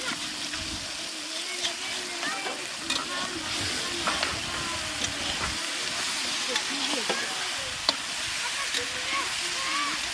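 Pieces of jackfruit sizzling and frying in hot oil, a steady loud crackle and hiss with occasional stirring scrapes, continuing throughout.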